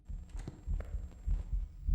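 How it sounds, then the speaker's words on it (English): A steady, low heartbeat thuds in a quick, even rhythm in the game Phasmophobia, faint and alone with a thin, constant high tone behind it. "Listen to my heartbeat."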